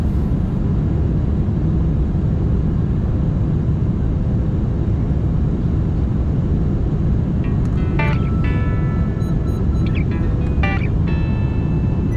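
Steady, loud, broadband roar inside a Turkish Airlines airliner cabin descending into London Heathrow at sunset, constant throughout, with a few faint chimes or clicks near the end.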